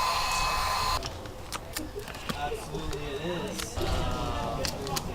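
A heat gun runs in steady bursts while vinyl wrap is heated and stretched over a car's front grill for a blacked-out look, with handling noises and a voice talking over it.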